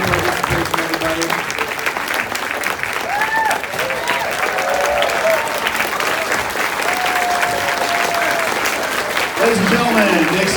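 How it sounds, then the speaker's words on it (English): Audience at a Red Dead Redemption 2 panel at Fan Expo Toronto applauds steadily throughout, a dense, loud wash of clapping with a few scattered cheers and whistles. "give a round of applause for the Fan Expo staff for giving us free stuff."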